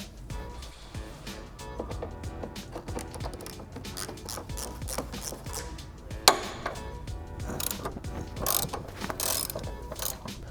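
A ratchet wrench backing out subframe bolts on a BMW during a 034 Motorsport subframe insert install, with a rapid close clicking that comes in bursts alongside metallic clanks of tools and parts, and no voices.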